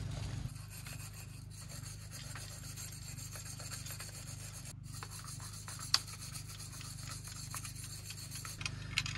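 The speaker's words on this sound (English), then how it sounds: "I'm gonna get in there with some Scotch-Brite or something and clean all the" A Scotch-Brite pad scrubs debris off metal antenna contacts on a handheld ham radio, a steady close rasping rub over a low hum, briefly pausing midway with a couple of small clicks.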